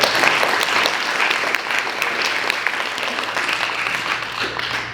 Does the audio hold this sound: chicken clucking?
no